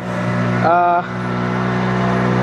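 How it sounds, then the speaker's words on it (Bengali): Speedboat with passengers in life jackets heading out from Port Blair on a cloudy day; a steady engine drone runs throughout, with a brief rising whine near the start and spray of water, with no talk. "এই যে দেখো স্পিড বোটে করে আমরা যাচ্ছি"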